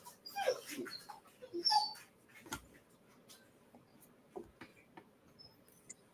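A puppy whimpers softly, a few faint high squeaks early on, then small scattered rustles and taps in a quiet room.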